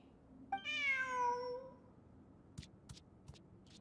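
A cat meows once, clear and drawn out, in the video game Genshin Impact, followed by a few soft clicks against a quiet background.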